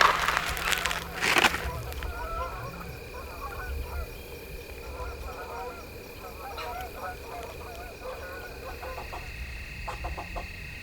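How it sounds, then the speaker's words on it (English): Honking geese heard outdoors on public land during a deer hunt, a loud burst of calls at the start followed by scattered fainter honks and clucks at a distance, with people talking intermittently. "And we found you some geese, Gooch."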